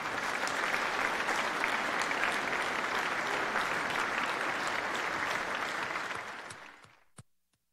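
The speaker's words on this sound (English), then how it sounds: "let's give a round of applause to our speakers" Steady applause from a forum audience for the speakers, dense and sustained for about six seconds before fading out, with a lone final clap.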